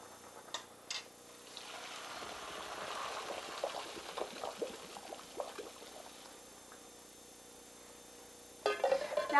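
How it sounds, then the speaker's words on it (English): Cooked pasta being drained and rinsed under cool running water, a soft continuous splashing stream with faint clinks at the start and a brief louder clatter near the end. "So I'm rinsing them in cool water."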